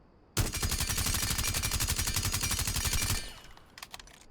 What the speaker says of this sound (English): I'll just do one mag with suppressor.